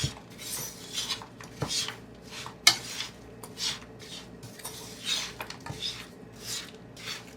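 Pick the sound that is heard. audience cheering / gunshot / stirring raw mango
stirring raw mango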